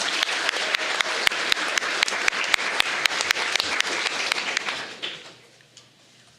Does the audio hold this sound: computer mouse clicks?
no